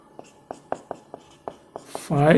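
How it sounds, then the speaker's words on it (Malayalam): A number being written by hand with a pen gives about eight soft, evenly spaced scratchy strokes close to the listener, then a voice begins speaking at the very end. "ഈ നമ്പർ നമ്മൾ എഴുതുന്നു"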